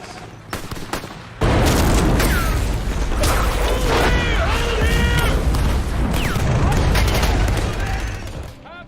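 Loud, dense battle din from a played war TV series scene set in the Pacific, with continuous gunfire bursts, booms and crashes around the approach of Japanese tanks, shouting voices mixed in throughout.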